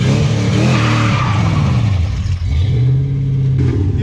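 A Mazda RX-7 swapped with an LS1 V8 launches hard with wheelspin, a loud, steady engine roar dipping briefly mid-run then holding, with a tire-squeal edge running underneath throughout.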